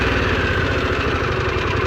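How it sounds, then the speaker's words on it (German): A Harley-Davidson Pan America motorcycle engine runs steadily at close range, a loud, continuous low rumble with a fast, even firing pulse and no voices. "Dritter Startversuch mit Gang drinnen, problemlos."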